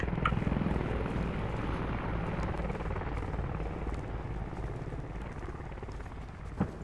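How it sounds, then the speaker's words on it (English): A helicopter's steady rotor thrum drones continuously at moderate volume in the video game Squad, with occasional faint sharp gunshot bursts in the background. "he's shooting the helicopter"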